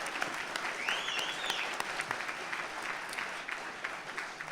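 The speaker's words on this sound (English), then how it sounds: "Let's give a round of applause to all the department heads from the county" Audience at a Southern Humboldt County community forum giving a round of applause for county department heads, a steady, fairly distant wash of clapping with a few faint voices underneath.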